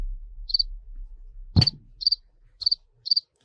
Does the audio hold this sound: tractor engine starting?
no